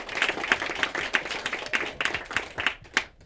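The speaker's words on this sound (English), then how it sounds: "Let's give them a round of applause for that." Audience at an event in a venue clapping steadily, a moderately quiet, fairly close round of applause with a brisk, even rhythm that thins out near the end.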